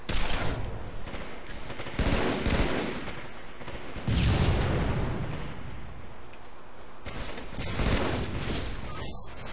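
Grenade blasts and gunfire fill a team slayer match in a first-person shooter video game. The explosions and rapid shots come loud and dense in repeated bursts, with no talk.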